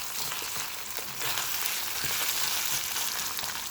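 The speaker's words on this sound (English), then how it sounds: "I want to get a crust on this just dry. Just dry crust with the oil." Wild rice and jumbo lump crabmeat fry dry in hot oil for Thai pepper fried rice, giving a steady, dense sizzle that runs close and loud throughout with no talking.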